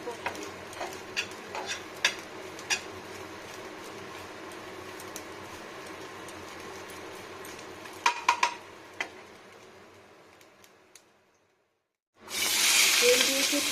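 Onion, green chili, ginger and garlic fry in oil with a soft, steady sizzle, punctuated by occasional clicks and utensil taps, followed by a sudden louder hiss near the end.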